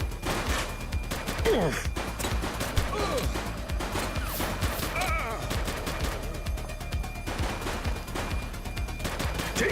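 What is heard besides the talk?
gunfire in the video game The Precinct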